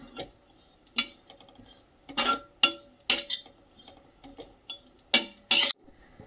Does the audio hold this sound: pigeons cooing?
no